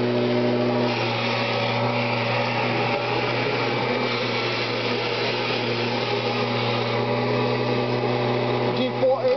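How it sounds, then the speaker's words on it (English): A 1994 Kirby G4 80th anniversary edition vacuum cleaner runs steadily and loudly close by, its motor drone constant with a strong low hum throughout and a brief shift near the end. "Every time I roll my vacuum over it,"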